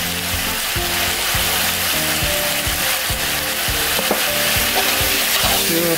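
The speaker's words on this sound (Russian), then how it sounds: "когда я жарю лучок с мясом" Pork ribs and onion fry in a kazan, sizzling loudly and steadily while a utensil scrapes and stirs against the pot in repeated strokes, with no talking.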